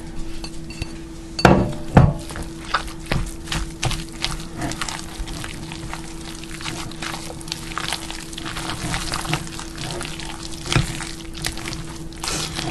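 Drained canned artichoke hearts, packed in brine, tipped into a crock pot for a three-cheese spinach artichoke dip, with a few loud clatters and wet plops near the start and lighter scraping and clinking after, no talk.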